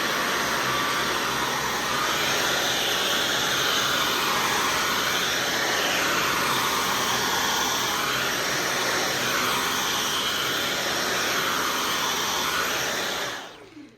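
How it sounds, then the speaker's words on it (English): A Dyson V11 Animal cordless vacuum cleaner runs steadily on thin carpet, giving a loud, continuous whirring hum that rises and falls gently in pitch as it is pushed back and forth, then cuts off at the end. "we're going to go ahead and start vacuuming and kind of show you how it actually works."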